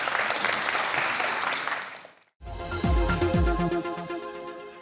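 A live audience at a product launch event applauds steadily for about two seconds, a dense wash of many hands clapping, before it cuts out and music begins.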